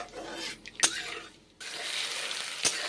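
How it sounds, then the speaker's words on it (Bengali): Onions dropped into hot mustard oil with panch phoron, a sharp hiss when they hit the oil followed by a steady sizzle, with a couple of clinks from stirring. "পেঁয়াজ ছেড়ে দিলাম গরম তেলে। এখন পেঁয়াজগুলো তাই ভেজে নিচ্ছি।"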